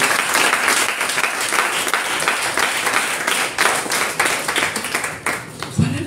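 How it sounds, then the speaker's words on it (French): Church congregation applauding for Jesus during a French-language sermon, sustained dense clapping from a crowd lasting throughout, with a voice briefly breaking through near the end. "Acclamez pour Jésus."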